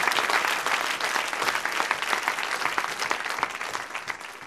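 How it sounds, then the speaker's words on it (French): A studio audience applauds a guest named Colette on a live French television broadcast, with steady dense clapping filling the whole stretch at an even level and no voices over it. "On peut l'applaudir d'ailleurs"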